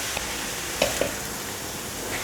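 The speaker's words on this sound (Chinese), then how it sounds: "加完油后继续翻炒" Mushrooms being stir-fried in oil, a soft continuous sizzle with a couple of light clicks of the spatula against the pan, steady and close with no voices.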